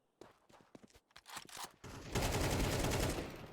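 Rapid gunfire erupts in a CS2 match, with a few sharp scout-rifle shots and scattered footsteps giving way to a loud, sustained burst of overlapping fire.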